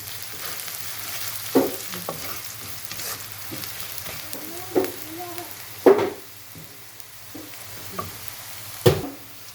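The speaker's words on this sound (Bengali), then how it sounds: "পেঁয়াজটা ভাজা হয়ে গেছে" A soft, steady sizzle of onions frying in a pan, broken by a few sharp clinks and scrapes of a utensil, with no talking.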